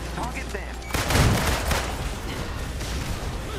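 Gunfire in the Marvel's Avengers video game: a loud burst of rapid shots and a boom near the middle, then scattered fainter shots over ambient game noise.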